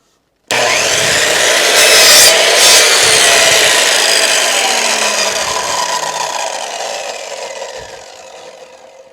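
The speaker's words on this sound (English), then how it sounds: "So I'm just going to cut this little corner piece off first." A saw cuts a small corner piece off a length of wood trim for a sewing-room pegboard frame, making a steady, close rasping stroke that runs continuously for several seconds before slowly tapering off.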